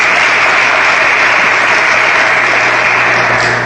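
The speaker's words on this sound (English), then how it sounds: "Give the Trust for Public Lands a round of applause." A large crowd at the Charles Young Buffalo Soldiers National Monument ceremony claps for the Trust for Public Lands in a dense, steady ovation that holds loud throughout and eases slightly at the end.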